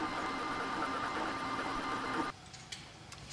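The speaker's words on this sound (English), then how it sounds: "It's a 3D printed thing that makes weird noises." A 3D printer hums and whirs steadily with a buzzy mechanical drone, then drops to quieter sporadic ticks and clicks near the end; fairly faint, no talking.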